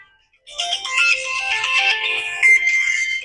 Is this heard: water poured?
no